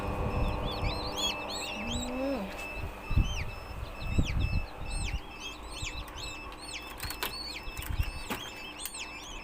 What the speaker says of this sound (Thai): อันนี้ลูกเป็ด